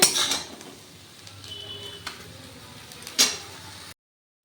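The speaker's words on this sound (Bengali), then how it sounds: "এটা আমি তুলে নিচ্ছি এখন এটা প্লেটের মধ্যে" Boiled jute leaves are lifted out of a pot onto a plate. Close metal clinks and scrapes of utensil against cookware come in a few separate knocks, with quiet gaps between them.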